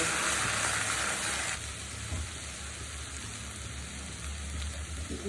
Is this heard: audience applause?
no